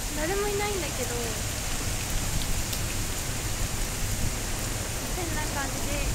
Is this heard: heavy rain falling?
yes